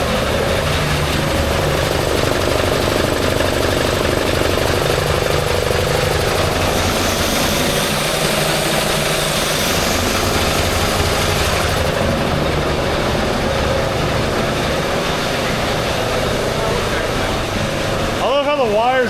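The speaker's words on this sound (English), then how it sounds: "So while we're filling up tires, this is what we got for a compressor." An air compressor chugs steadily and loudly throughout while tires are being filled at a garage, a dense mechanical drone with voices talking over it.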